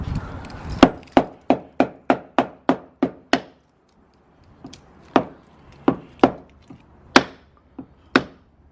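Hammering on a coilover part during an MK4 Jetta install: about eight sharp, evenly spaced metallic whacks, a pause, then several more irregular strikes, close and loud with no talk.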